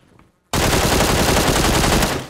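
Automatic rifle fire in PUBG bursts in abruptly after a near-silent half second, then runs as a loud, dense, sustained volley of rapid shots close by until the end.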